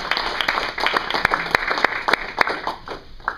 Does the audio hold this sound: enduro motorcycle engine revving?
no